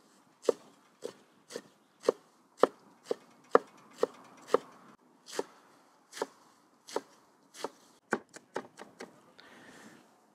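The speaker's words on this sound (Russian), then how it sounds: "Значит, крапиву режем мелко." A knife chops young nettle finely on a board: about twenty crisp, separate strokes at an irregular pace, close and fairly loud, speeding into a quick burst near the end, with no voices.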